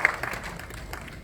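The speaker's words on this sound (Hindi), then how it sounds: "मैं चाहूंगी जोरदार तालियों के साथ उन ऋषि श्रद्धेय दादू के लिए प्रवीण जैन जी के लिए तालियां बजे" Applause breaks out at an award ceremony honouring a musician, a brief spread of clapping at moderate level with a few sharper claps near the start and end.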